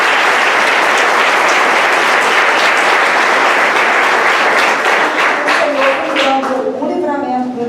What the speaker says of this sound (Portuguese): Alguém pode aplaudir bem forte?